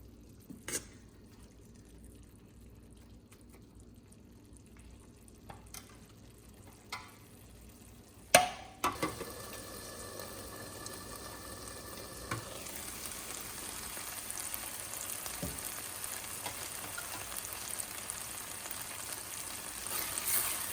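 Zucchini and masala ingredients fry and get stirred in oil in a pan, a steady close sizzle building after a sharp clatter, with occasional scraping stirs over a continuous hiss.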